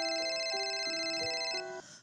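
A telephone rings with a bright, electronic melodic tone, several short stepped notes cycling over two seconds before fading as it cuts off.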